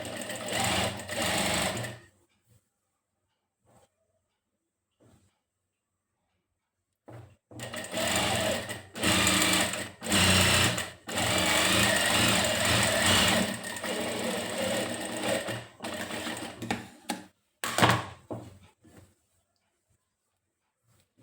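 Sewing machine stitching the edge of a shirt, running in several bursts of steady whirring and rapid needle clatter separated by silent pauses, close and fairly loud.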